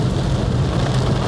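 Heavy rain pours over a car while it is being driven, a dense, continuous roar of drops drumming steadily on the body and windshield with a low rumble underneath.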